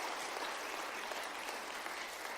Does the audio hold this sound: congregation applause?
yes